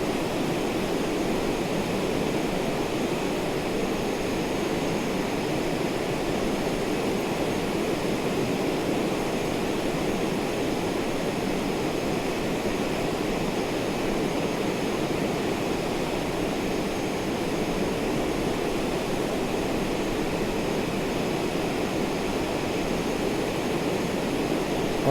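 Steady cockpit roar of an Embraer Phenom jet in flight over the Alps, a constant broadband engine and airflow hiss with no change in level.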